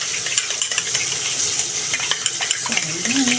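Chicken breast fillet ingredients being stirred and mixed by hand with utensils in a bowl, giving close, continuous scraping and clinking under faint kitchen background.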